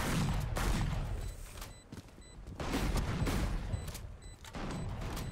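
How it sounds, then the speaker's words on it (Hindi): Shotgun blasts in the Valorant video game ring out in loud bursts, several heavy booming shots spaced through the stretch with reverberant tails, some rapid cracks between them. "बहुत तेज आवाज आ रही है इसमें से, शॉटगन बहुत तेज है।"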